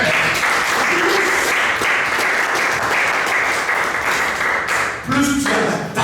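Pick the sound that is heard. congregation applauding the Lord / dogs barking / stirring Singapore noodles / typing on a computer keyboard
congregation applauding the Lord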